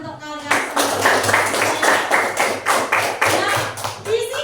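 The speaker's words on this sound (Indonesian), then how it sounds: "tepuk tangan untuk kalian semua" Classroom of students clapping in a steady, rhythmic beat for several seconds, close and fairly loud, with a teacher's voice faintly underneath.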